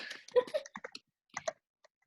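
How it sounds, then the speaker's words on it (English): Keys on a keyboard are tapped in short clustered bursts, close and fairly quiet, with brief pauses between runs of clicks and no talking. "Are you typing it in there?"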